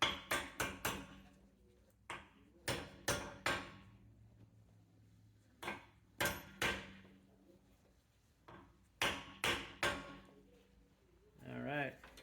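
Rear brake pad being tapped into place on a 2012+ Tesla Model S: clusters of sharp, close metallic taps in quick groups of two to four, separated by short pauses, with a brief rattling scrape at the end.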